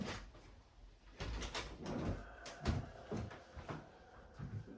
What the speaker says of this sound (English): I'm just going to close this door because it's getting a little bit windy outside.